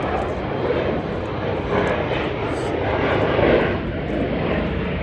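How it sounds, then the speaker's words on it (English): An airplane roars overhead, a steady loud broadband engine rumble that holds throughout without fading. "See you later, aeroplane."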